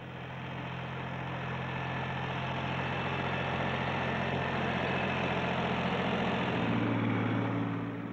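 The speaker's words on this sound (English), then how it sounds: "The rugged 26-horsepower diesel engine of the 1710 makes for easy ploughing" A Ford 1710 tractor's 26-horsepower diesel engine runs steadily, a dense continuous drone with a slight rise and pitch shift near the end, heard alone without speech.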